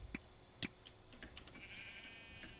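Sheep bleating in Minecraft, short blocky bleats standing out over quiet background game noise, with a few soft clicks.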